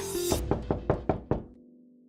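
Someone knocks on a door five times in quick, even succession, each rap sharp and close, after a sudden cut from louder background sound, leaving a low hum behind.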